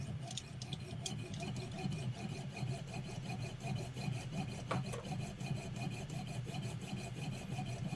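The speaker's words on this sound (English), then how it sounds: "The sawing sound. It's awesome." A hand saw cuts through wood in a garage with steady, rhythmic back-and-forth strokes, rasping and close, continuing without pause.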